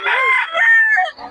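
A Sweater Gilmore gamefowl rooster crows once, close and clear: a rising, strained call that holds its pitch, then trails off into a short raspy tail.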